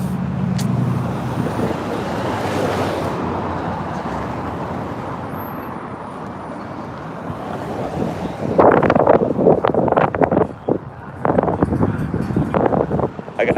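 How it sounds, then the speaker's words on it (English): Strong wind gusts rumble and buffet a microphone outdoors on a street in Yakima, Washington. The roar stays steady and loud, with sharper crackling bursts toward the end. "This wind, man."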